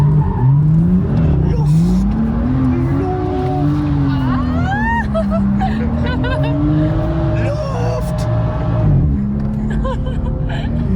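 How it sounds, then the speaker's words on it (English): A BMW M2 F87 with the N55 engine revs and drops repeatedly, its rising and falling engine note loud and close, with voices over it. "I just love how this car sounds, honestly"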